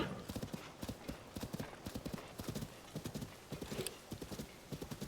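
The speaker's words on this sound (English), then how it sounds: "Oh, look! It's Bokoblins on a horse, and they have a little cart." Horses pull a Bokoblin cart in Tears of the Kingdom, their hooves clip-clopping in a steady, repeating rhythm at moderate volume, with a faint neigh partway through and low talking underneath.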